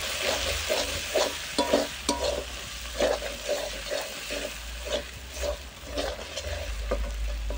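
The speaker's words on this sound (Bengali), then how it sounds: "এবার মিক্স করে নেব।" Spices with salt, chili powder and turmeric are stirred in a hot pan, giving a rhythmic series of scraping strokes over a steady sizzle, close and fairly loud.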